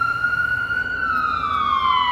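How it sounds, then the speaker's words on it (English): Ambulance siren wailing steadily on a downtown Columbus street outside the Scottish Rite building, its tone sliding slowly downward as it passes, loud over a low traffic rumble. "Oh, it's an ambulance."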